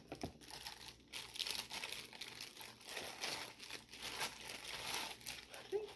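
Plastic packaging crinkles and crackles steadily as a Supernatural-themed plastic cereal bowl is unwrapped, close up with continuous rustling and brief tearing bursts, and no talk over it.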